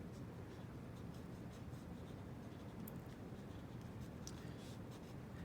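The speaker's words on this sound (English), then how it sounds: "Just go through, kind of sketchy with the black." A black drawing tool scratches and taps across paper in a sketchy, stippling texture project, a soft continuous scratching with faint ticks, quiet and close.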